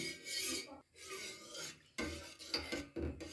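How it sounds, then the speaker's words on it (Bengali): Milk stirred in a pot over a high gas flame for rasgulla, giving a continuous rasping, scraping swirl in repeated strokes with brief pauses, close and moderately loud, with no talk. "দুধ যতক্ষণ না উতলে আসে ততক্ষণ পর্যন্ত আমি দুধটাকে এইভাবে নেড়ে যাব"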